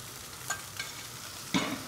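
Salmon sizzles in a very hot frying pan with a soft, even crackle, broken by a few brief louder spits and clicks near the end.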